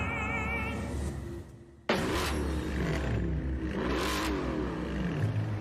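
A powerful 6.2-litre quad-cam V8 car engine revs repeatedly, rising and falling in pitch with roaring bursts, close and loud, after a brief quieter moment.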